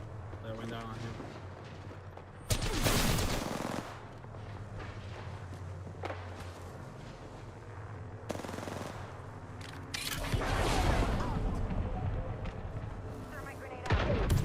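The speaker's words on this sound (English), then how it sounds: "Taking fire." Bursts of gunfire in a first-person shooter video game, loud crackling volleys at several points over steady background game sound, with a voice talking throughout.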